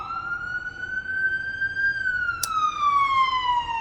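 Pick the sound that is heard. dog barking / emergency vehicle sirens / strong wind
emergency vehicle sirens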